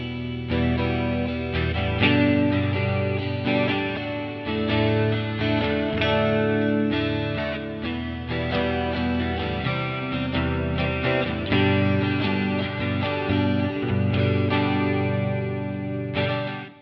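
An electric guitar played through Line 6 HX Stomp amp models rings out with thick distorted, chorus-tinged chords and sustained notes, loud and continuous with rhythmic strums, heard alone without talk.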